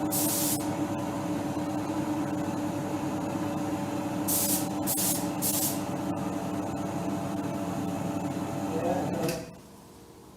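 Spray gun applying a coat of paint to a small repair patch on a 2018 Ford Fiesta ST, a continuous close hiss with brief louder bursts, cutting off near the end and leaving quiet workshop background.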